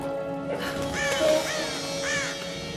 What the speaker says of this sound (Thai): ยังจะมีอีกา